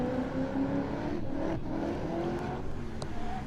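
BMW E30 drift car at a drift event, engine revving hard and rising in pitch, then dipping briefly before climbing again, heard from some distance at moderate loudness.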